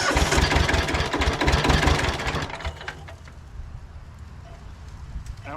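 A Hinomoto tractor running on only one cylinder after sitting idle for three years, a loud, lumpy, uneven chugging close by that suddenly drops away to a quiet, rough idle in the background.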